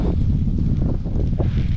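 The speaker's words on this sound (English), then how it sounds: "It's a bit of a windy day." Wind on a windy day while cycling on gravel roads leaving Odense buffets the microphone with a loud, steady low rumble and gusting roar, with no voices.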